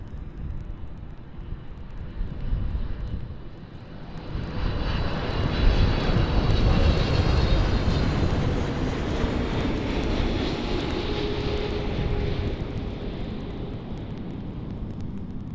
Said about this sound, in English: And here we have the KLM 777-300ER.